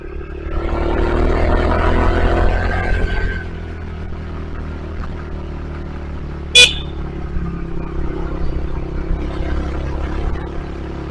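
A Skygo Boss 150 motorcycle ridden along a street, its engine giving a steady, continuous drone that rises a little early on then settles, with one brief sharp high tone near the middle of the clip.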